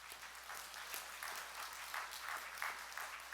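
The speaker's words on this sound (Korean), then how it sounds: "우리 박수 한번 쳐야 되겠죠?" A church congregation claps during a Catholic seminar talk, a fairly quiet, distant patter of many hands with a few sharper individual claps standing out, steady for a few seconds in a reverberant hall.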